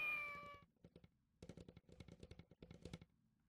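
A lodge cat in the video game Kamaitachi no Yoru meows in a quick series of short, clear calls after a brief fading tone, the meows coming in uneven clusters and fairly quiet.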